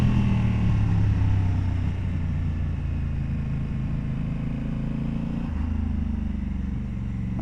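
Honda Africa Twin Adventure Sports DCT motorcycle, a 2022 model, climbing a hill in manual second gear, its engine droning steadily and loud up close with a slight dip in pitch partway through, mixed with wind rush.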